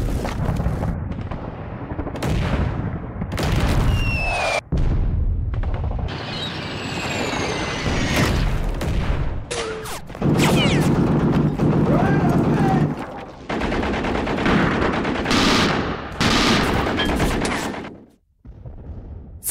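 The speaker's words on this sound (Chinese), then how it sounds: "在后方，苏军用炮火支援楼内的士兵" Dense artillery barrages and gunfire from a war film about a brutal battle between Soviet and German troops, loud, continuous booms and bursts with whistling shells and chaotic battlefield noise.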